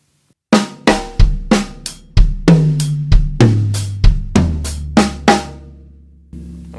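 A drum kit plays a quick linear fill of single hits spread across toms, snare and kick, about a dozen strokes in a brisk rhythm, loud and close.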